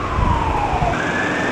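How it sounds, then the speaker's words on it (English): Police siren wailing on a busy Hong Kong street, loud and close, its pitch sliding down then jumping higher, over steady low traffic rumble with no talk. "right now I can hear the police siren coming from this side of the street"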